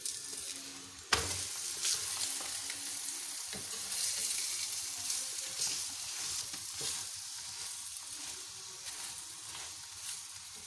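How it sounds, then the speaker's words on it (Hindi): A flipped qeema paratha sizzles and fries steadily in a pan, a continuous close hiss with a brief clatter near the start. "अब हम पराठे को पलट देते हैं"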